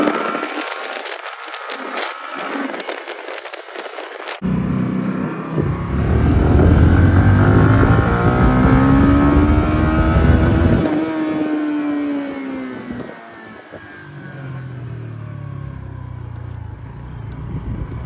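A Barton GT 125 motorcycle's engine revs while riding, pitch climbing and falling through gears in loud close sweeps, with a wind-buffeted start and a quieter steady drone at the end.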